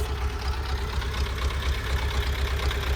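A tractor engine running at a steady idle-like rumble, a low, even throb held close throughout with no talk over it.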